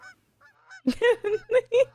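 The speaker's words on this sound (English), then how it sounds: "watch out for the geese" Geese honk loudly and close by in a rapid series of six or seven nasal calls, preceded by fainter, more distant honks.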